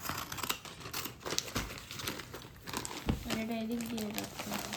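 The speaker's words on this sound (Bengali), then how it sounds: "তুই কাঁচি দিয়ে কাটো" Scissors cut through crinkly plastic packaging on a bird toy, with snips and crumpling rustles close by under ongoing speech.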